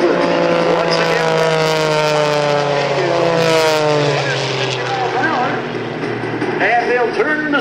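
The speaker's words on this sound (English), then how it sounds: "On a 45-degree downline, they'll half roll the aircraft for the half Cuban 8 turning maneuver." Iron Eagles propeller aerobatic airplanes performing a half Cuban 8 at the 2010 Greenwood Lake airshow, their engines droning loud and steady with a shifting pitch, while an announcer talks over the noise.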